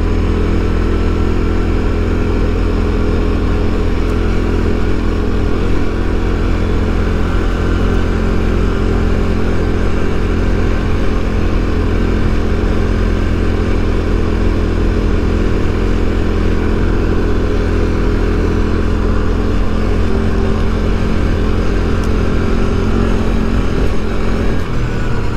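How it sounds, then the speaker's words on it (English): CFMOTO CFORCE 400 ATV engine braking on a rough trail, a loud, close, continuous mid-pitched engine drone with a steady hum and slight surging, heard alone without talk. "Let the engine brake and put in work"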